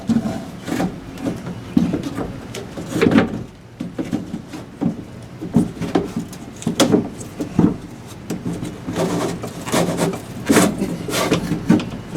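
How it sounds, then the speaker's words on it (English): Old weather stripping is peeled and rubbed back along the wing window frame of a 1987–1991 Ford F150, giving repeated close scraping and rubbing strokes at a steady, fairly loud level with no talk. "Got to peel back some of this weather stripping"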